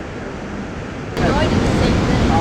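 Niagara Falls water rushing at close range, a broad steady roar that jumps louder partway through and keeps going without pause.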